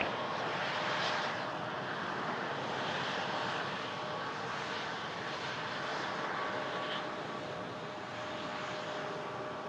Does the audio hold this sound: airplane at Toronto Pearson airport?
yes